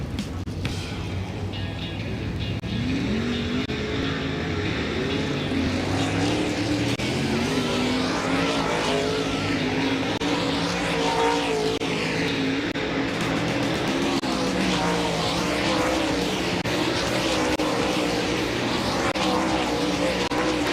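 World of Outlaws dirt late model race cars roar around Volusia Speedway Park during hot laps, a dense, continuous engine howl rising and falling as the pack circles and passes.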